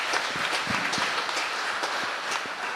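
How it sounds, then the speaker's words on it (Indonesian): Steady, dense clapping from a church congregation applauding children at a Christmas service, continuous and fairly loud throughout with no voices on top. "Kita berikan tepuk tangan lagi buat anak-anak kita semua."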